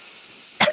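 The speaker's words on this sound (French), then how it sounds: "Laisse tousser." A single short cough breaks a quiet room near the end, loud and close after near silence, during a guided breathing session.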